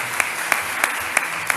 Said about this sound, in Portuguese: Eu sabia que você ia me ajudar com as palmas hoje.